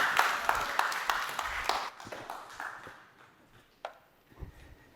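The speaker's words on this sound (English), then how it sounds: "please give a big applause to Tobias Walliser" Audience applause greets a speaker taking the stage at the Creativity World Forum 2022 plenary, with dense clapping that thins out and fades over a few seconds into scattered claps.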